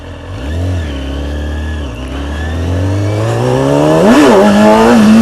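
A motorcycle engine revs hard as the clutch slips to lift the front wheel into a wheelie, its loud, close pitch dipping briefly and then climbing steadily in a long rising whine.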